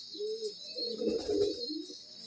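A pigeon coos close by in a low, rolling burble, a few soft throaty pulses that swell in the middle and fade, with no talking.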